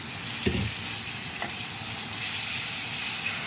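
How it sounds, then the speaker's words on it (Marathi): Masala for mutton sukka sizzles steadily in a hot pan, a continuous close frying hiss with a couple of brief stirring scrapes. "मसाला छान फ्राय होतोय"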